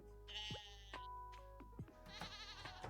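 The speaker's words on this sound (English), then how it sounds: "Sheep?" Sheep bleating in the farming video game Stardew Valley, two drawn-out wavering bleats separated by a short gap and soft game chimes, clear and close with no talking.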